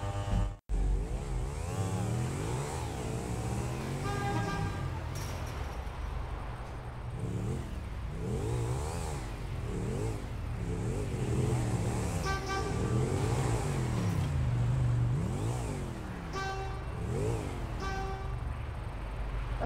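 Motorcycle engine revving repeatedly in GTA V Online, rising and falling pitch sweeps in bursts over steady game ambience and traffic, with a loud knock near the start.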